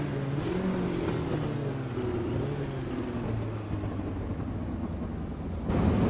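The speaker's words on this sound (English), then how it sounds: "Engines revving up." Race car engines in iRacing at Daytona Road Course idle and rev together at a distance, a steady continuous mechanical drone and rumble with wavering pitch and a slight swell at the end.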